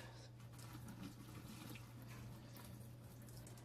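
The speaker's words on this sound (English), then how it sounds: "I'm going to just pour this water out into the sink" Water gushes steadily into a sink, a continuous splashing rush over a low hum, with no pauses.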